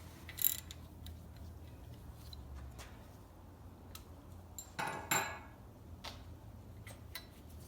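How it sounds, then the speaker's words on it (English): A ratchet loosens a Torx T30 screw holding the rear brake rotor on an Audi A6 3.0T, giving faint, sparse clicks and a couple of short louder metallic bursts over quiet background. "we'll be taking off the T30 torque screw that holds the rotor in place"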